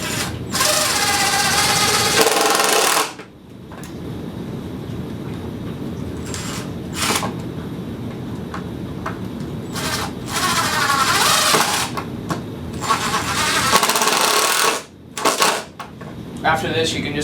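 A power driver whirs in several bursts as screws are driven into a wooden board of a child's picnic table, with quieter gaps and a person talking between the runs.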